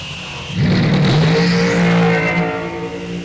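Cars in an ET series drag race launch off the line, a sudden loud surge of engine roar half a second in, with a rising pitch sweep and tire noise, sustained and close, with no voices.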